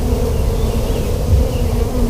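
Dense, steady buzzing of many honey bees close by at an open beehive, a continuous low drone without speech.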